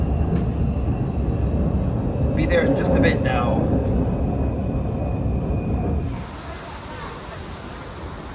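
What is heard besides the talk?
elevated metro train riding to Cicheng, Ningbo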